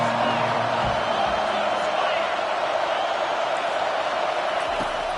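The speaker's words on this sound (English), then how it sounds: "Decibels rising as the crowd gets behind this defense on third down" Football stadium crowd at an NCAA game roaring steadily behind the defense on third down, a dense continuous wall of cheering and noise with a commentator's voice faintly underneath.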